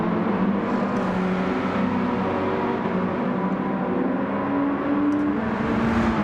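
Racing car engine in a racing video game on intermediate tyres, a continuous loud whining drone that holds steady with slight pitch shifts, close and unbroken throughout.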